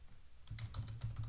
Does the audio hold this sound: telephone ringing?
no